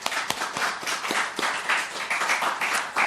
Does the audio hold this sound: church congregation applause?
yes